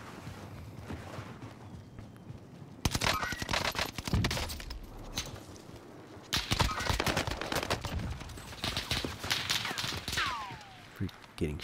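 Bursts of rapid automatic gunfire in the Call of Duty Warzone video game, loud and dense, coming in two long clusters with scattered single shots and a whistling streak between them.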